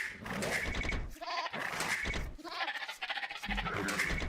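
Sheep in a real-time strategy game bleat several times in a row, loud and close, with short gaps between calls and no talking over them.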